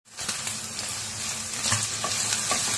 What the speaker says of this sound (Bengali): এবার এটা আমি একটু এইখানে এভাবে নাড়াচাড়া করে ভাজা করব